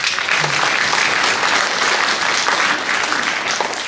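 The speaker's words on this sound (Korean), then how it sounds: "여러분 뜨거운 박수 한번 해주세요" Sustained applause from a crowd at a memorial ceremony for Okgye Yu Jin-san's 50th anniversary in Korea, steady and dense throughout with no speech over it.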